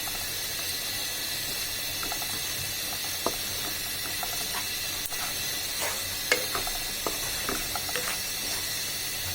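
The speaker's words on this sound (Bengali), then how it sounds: "এবার আমি এখানে 1 চা চামচের মতো জিরা ফোড়ন দিব।" About a teaspoon of cumin seeds crackling in hot oil with browned onions and garlic in a pan, a constant bright sizzle broken by scattered small pops and spits.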